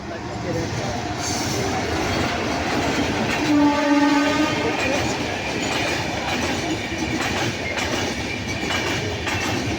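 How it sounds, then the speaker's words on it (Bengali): An express train rumbles past close by, its horn sounding one sustained blast midway while wheels clatter loudly on the rails throughout, with a voice talking in the background. "আবার একটা ট্রেন আসছে। হ্যাঁ, এক্সপ্রেসে আসছে"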